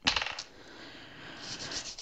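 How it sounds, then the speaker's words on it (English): Small loose diamond painting drills pop off a canvas and fall, making a quick cluster of light, hard clicking patters up close, then faint scattered ticks. "this is where you'll find that your loose drills will pop off at this point."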